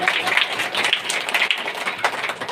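A church congregation applauds the reading of scripture, steady dense clapping from many hands filling the room, loud and continuous without speech.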